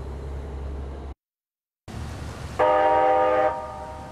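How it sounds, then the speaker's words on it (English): A loud, steady simulated air horn on a rail car blares for about a second over rumbling rail noise, after a brief gap of silence. "With a simulated air horn sounding on the way out of the M1 Center offices"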